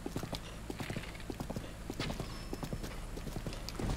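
Horse hooves clip-clop at a steady trotting rhythm in Zelda: Breath of the Wild, crisp repeated footfalls fairly close over a constant low ambient bed, with no talk.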